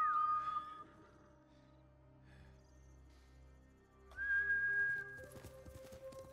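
A horse being called in the samurai video game Ghost of Tsushima: a sharp whistle call, a stretch of quiet ambience, then a second whistle with faint hoofbeats and horse sounds close by.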